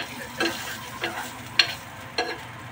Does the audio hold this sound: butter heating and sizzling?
yes